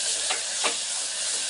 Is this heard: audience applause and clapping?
no